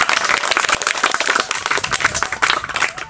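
Children at an outdoor mobile digital classroom session clap together in a brisk, uneven burst of close applause that lasts a few seconds.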